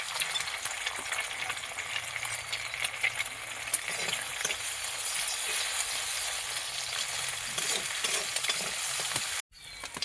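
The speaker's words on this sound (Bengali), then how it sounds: "কড়াইয়ে তেল দিয়ে দিয়েছি ডিমটা ভেজে নেবো" An egg frying in oil in a wok, a steady, close, continuous sizzle with faint scraping and stirring, running evenly until it abruptly drops away near the end.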